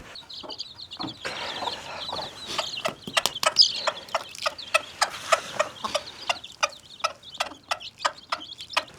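Young chicks clucking and peeping while being fed boiled egg on a farm, a steady run of short sharp calls in a quick rhythm, close and fairly loud, no talking.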